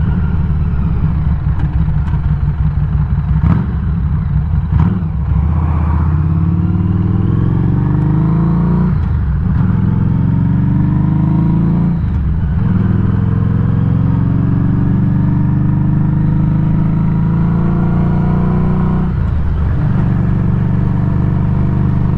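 A Harley-Davidson motorcycle engine revs up and accelerates under throttle, its loud, steady drone rising in pitch through repeated pulls, with brief dips between them and no voices.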